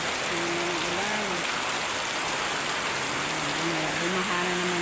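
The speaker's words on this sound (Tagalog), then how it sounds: "Ulan." Rain pours steadily during local flooding, making a constant broadband hiss. A voice talks faintly underneath it at intervals.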